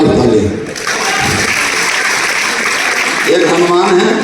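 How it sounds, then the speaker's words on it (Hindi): An audience at a motivational leadership speech breaks into steady, loud applause for several seconds, a dense wash of clapping framed by a voice talking at the start and end. "जोरदार ताली"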